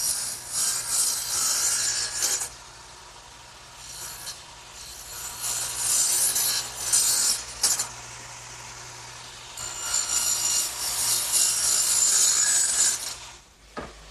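A radial arm saw makes angled cuts in wood for a workbench, giving several rasping passes of blade through timber separated by short pauses. The cuts are moderately loud over a low shop hum.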